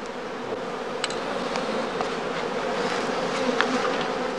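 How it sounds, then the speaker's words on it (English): Honey bees swarming from skep hives make a dense, steady buzzing drone all around, loud and continuous, with occasional individual bees passing close. "the beekeeper waits for the second swarms, or casts, to emerge from the skeps"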